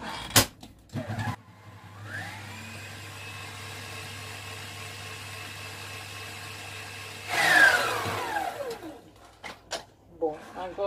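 Electric mixer beating vegan, gluten-free, lactose-free, egg-free cake batter: a steady mid-pitched motor whine runs for several seconds after a few knocks, then a louder rattling burst before it stops, with clatter following.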